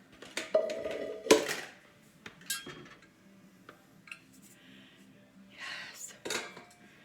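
Kitchen bowls and a colander shifted around inside a cluttered cupboard, giving a run of close clattering knocks and clinks at uneven intervals, with a few quieter rustles and bumps between them.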